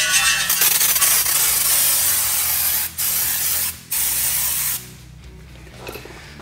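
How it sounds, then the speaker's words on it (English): Brake cleaner sprayed onto a brake caliper of a 1988 Isuzu Trooper: a loud, continuous aerosol hiss in several long bursts separated by brief pauses, fading to quieter spatters near the end. "Let the brake cleaner do some work."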